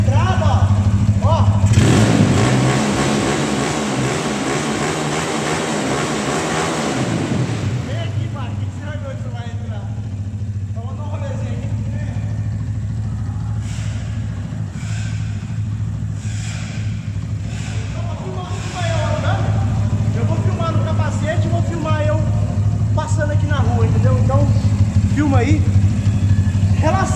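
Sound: Honda CG 255cc 4-stroke OHC motorcycle engine running on gasoline

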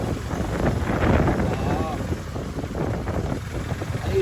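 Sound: strong wind

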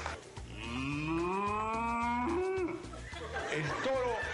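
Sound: person imitating a cow mooing

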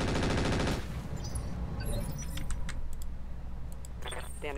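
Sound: machine guns firing in the Roguetech video game

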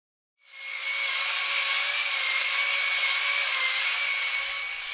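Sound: sanding wooden deck rails and balusters

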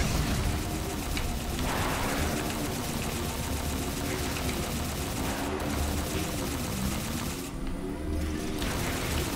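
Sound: gunfire in Halo 4 video game

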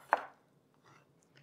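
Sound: knife chopping soft tomatoes

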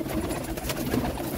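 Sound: pigeons cooing

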